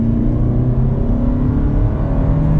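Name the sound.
2025 Toyota Camry XSE AWD hybrid accelerating onto highway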